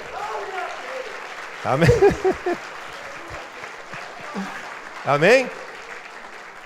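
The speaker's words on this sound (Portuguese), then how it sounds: "Pode aplaudir o Senhor." A church congregation at a Sunday service claps steadily throughout, a continuous patter of applause under a preacher's voice calling out to the crowd.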